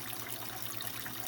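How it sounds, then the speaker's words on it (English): Soft, faint trickle of a low-flow waterfall spilling into a planted aquarium tank, a quiet, steady patter of running water with no voices. "you can see how low flow the waterfall is at this point"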